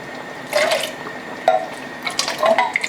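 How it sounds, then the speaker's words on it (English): Water poured from a tomato sauce can into a pot of beef stew made with dark beer, heard as a few short splashing trickles in separate bursts, close and moderately loud. "Pour some water."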